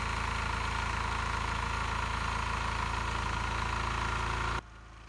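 A Lombardini air-cooled diesel engine drives an old Deloule water pump, idling steadily and loudly with an even mechanical chug for several seconds before cutting off abruptly near the end.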